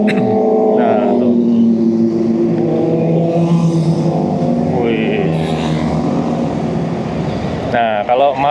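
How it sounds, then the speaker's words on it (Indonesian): Motorcycles pass along a busy city main road at night, engines droning and revving loudly in a continuous stream under a voice talking. "Nah kalau malam-malam minggu begini memang banyak ini anak-anak motor melintas di sini gitu"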